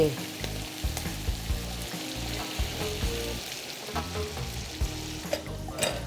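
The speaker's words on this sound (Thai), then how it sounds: "หอยแมงผู้ปลาหมึกกุ้ง ทะเลเนี่ย ผัดอย่างเร็ว สุกเร็วมาก" Mussels, squid and shrimp stir-fried quickly with curry paste in a hot pan give a continuous loud sizzle and crackle, with scraping stirring throughout and no talk.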